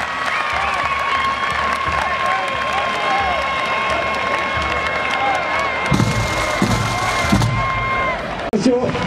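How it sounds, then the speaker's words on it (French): A crowd at a European Highland Games championship in Bressuire, France applauds and cheers outdoors, with clapping and voices over a busy background, swelling louder near the end, and an announcer speaking over the noise. "je vous demande d'applaudir Vlad."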